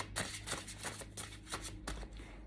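Tarot cards shuffled by hand make a quick run of close, soft riffling flutters with repeated rhythmic bursts over a steady low background hum, with no talking.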